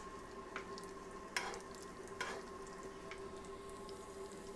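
Thin turkey escalopes fry in a pan with a soft, steady sizzle, punctuated by a few faint scrapes or pops, heard close but quietly with no talking.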